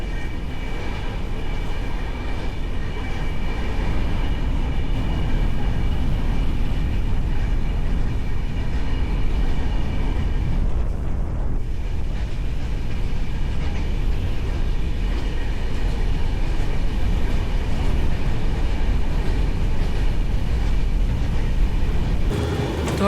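A Gujarat passenger train, the 19256 service from Mahuva, runs steadily through Dungar station without stopping, giving a continuous loud rumble and rattle of wheels and carriages close by for the whole stretch, with no voices.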